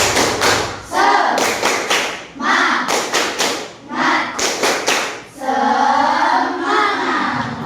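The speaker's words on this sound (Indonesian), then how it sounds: "Oke, kita tepuk semangat dulu. Tepuk semangat." Groups of loud hand claps in a rhythmic pattern, with pauses between bursts, as a class chants along in time in a classroom.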